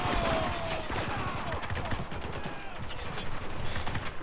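Gunfire in the war shooter game Spec Ops: The Line, with dense, continuous bursts of shots and explosive cracks filling the scene at steady loudness, while a voice speaks faintly beneath the noise.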